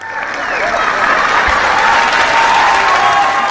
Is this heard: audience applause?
yes